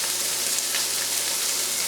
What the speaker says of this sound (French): Là je vais faire revenir ma petite garniture